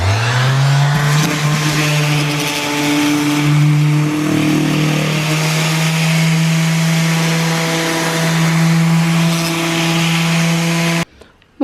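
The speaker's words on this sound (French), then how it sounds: "Bon, allez, on va poncer." A power sander works wood on a renovation site, a loud steady motor whine rising in pitch early and then droning continuously up close before cutting off abruptly near the end.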